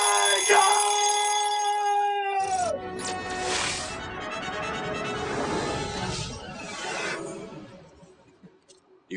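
A ringing alarm tone sounds loudly at first with bright sustained pitches, then gives way to a noisy, clattering wash of sound that fades out toward the end.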